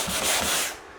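A stairwell wall being sanded smooth by hand, one close, broad rasping stroke of abrasive across the surface lasting about a second; no voices.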